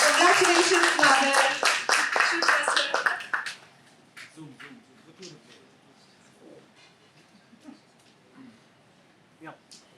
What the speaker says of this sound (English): Let's all give a huge round of applause for Toastmaster Maher